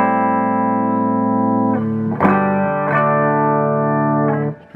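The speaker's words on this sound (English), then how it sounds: "Straight guitar signal." Clean electric guitar played straight into an amplifier with no pedal, a sustained ringing chord held, re-struck twice with brief pick attacks, then fading at the end; no voices.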